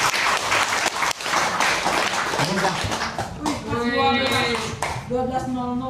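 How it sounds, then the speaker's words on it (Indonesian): Audience applause after a talk at an Indonesian gathering: dense, sustained clapping from a crowd, with an announcer's amplified voice talking over it toward the end. "Boleh tepuk tangan lagi yang meriah buat Kang Abu dan kita semua ini."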